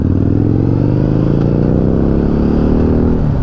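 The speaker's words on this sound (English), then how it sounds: "you can hear it beautifully over this beautiful stock exhaust" A Suzuki GSX-R1000 sport motorcycle runs through its stock exhaust, giving a loud, close, steady engine roar with a deep throbbing pulse as the engine climbs slightly in pitch, with no talk.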